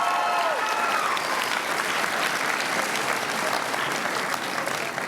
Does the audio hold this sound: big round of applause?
yes